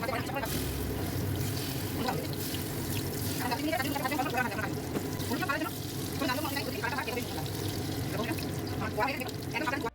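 Small flattened lentil fritters fry in hot oil with a steady bubbling hiss and occasional splashy crackles throughout, while someone talks over the cooking.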